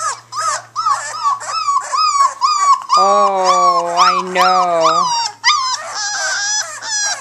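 Four-week-old Cane Corso puppies howl and whimper up close in a chorus of rising, wavering cries, with one long sustained howl in the middle, while a person speaks briefly among them.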